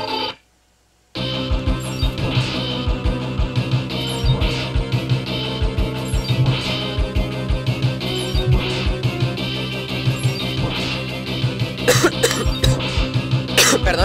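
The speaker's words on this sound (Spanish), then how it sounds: "Pero es que así es la tos." Repeated coughing from a sick man, several sharp bursts close to the microphone, layered over constant chiptune music and sound effects from Megaman X3 gameplay.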